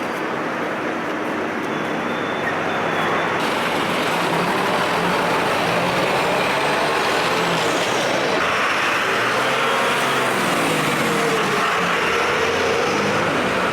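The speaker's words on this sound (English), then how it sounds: "Do you hear the cars?" Steady street traffic, with cars and trucks rolling past in a continuous broadband wash that swells and shifts as vehicles come and go, fairly loud and close, with no talking.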